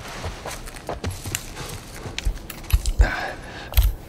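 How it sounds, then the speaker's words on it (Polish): Hooves clip-clop irregularly on hard ground in The Last of Us Part I, a few close thuds and scuffs with a jingling of tack, as a horse is ridden or dismounted. "Dobra, zejdę z tego konia."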